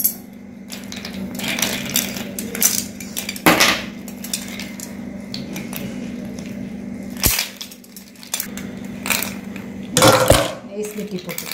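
Ice cubes for nannari sarbath are dropped into glasses, giving several sharp clinks and clatters in separate bursts amid a steady background hum, with talking in between.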